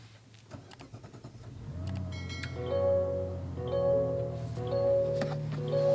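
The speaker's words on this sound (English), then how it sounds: "That inline 6 comes to life" The inline-six engine of a 2024 Mazda CX-90 turns over and catches, then settles into a smooth, steady idle with a low hum, heard close and on its own.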